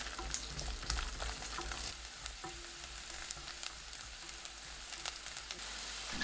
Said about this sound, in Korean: 팬에 올리브오일 2큰술, 마늘 넣고 중불로 2분 볶습니다.